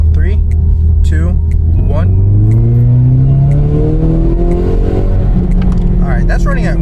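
A Ford Mustang accelerates hard in automatic, its engine roaring loud and close with rising pitch sweeps as the transmission shifts on its own, while a voice speaks briefly over the noise.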